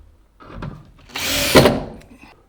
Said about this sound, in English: You might think this is a lot of screws going in here